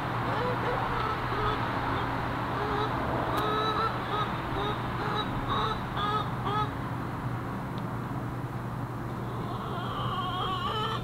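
Chickens cluck and chatter in a steady, busy flock near a golf course, their short calls overlapping throughout under faint background voices.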